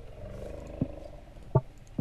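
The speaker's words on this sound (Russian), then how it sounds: "Священный слон." A sacred elephant unit in Totally Accurate Battle Simulator roars in short, loud bellows, with two or three brief calls rising above a low battle hum.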